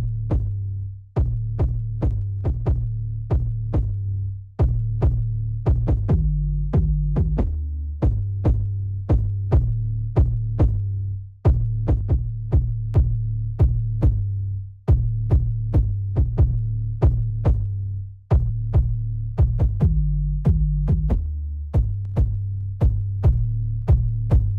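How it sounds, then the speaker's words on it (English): Solo distorted 808 bass playing a repeating pattern of deep booming hits, each with a gritty attack and a sustained low tail, looping steadily in short bars and alone with no voices. "So on this particular 808, it already has a lot of distortion on it."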